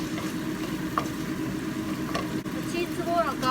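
Pork sizzles and fries steadily in a tablespoon of oil in a pan, a dense continuous crackle with a few brief clinks and scrapes on top.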